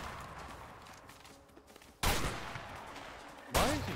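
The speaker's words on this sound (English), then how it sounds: "Why is he shooting blindly?" Gunfire in the video game A Way Out: two loud, sharp bursts of shots cut in abruptly over a low game background, each followed by a lingering noisy tail.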